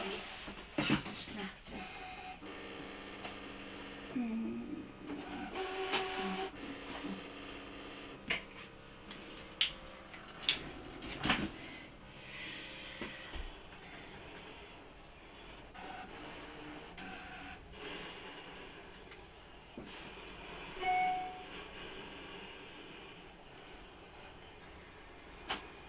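A Brother ScanNCut DX cutting machine cuts paper with quiet mechanical whirring, clicks and brief motor bursts, the blade carriage moving in short irregular passes, mostly soft with a few sharper ticks.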